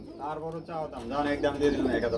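Grizzle pigeons coo in low, throaty bursts, close by, while people talk over them in a busy pigeon market.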